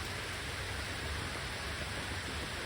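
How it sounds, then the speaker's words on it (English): Steady rain falls at an outdoor beehive, a dense, even hiss with no pauses, and no voices. "I thought that was wind, but it's actually rain."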